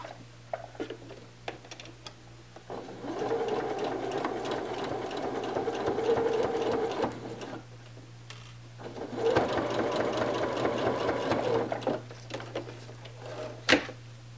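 A sewing machine runs in two steady stitching bursts with a pause between, sewing down a bag's zipper tab, its motor humming close by, followed by light clicks and handling noises.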